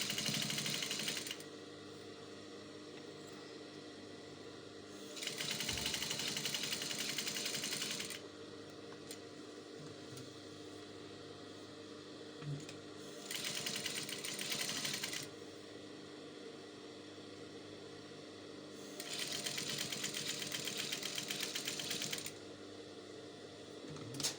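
A sewing machine stitches the neckline seam of an off-shoulder umbrella dress, running in repeated bursts of steady mechanical whirring with short pauses between them, fairly quiet and with no talk.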